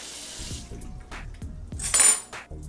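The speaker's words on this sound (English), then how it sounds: "Rinse hands." Hands rinsed under a running kitchen tap while making a healthy packed lunch, a steady wash of water with a louder gush partway through and light splashes and clinks, no talking.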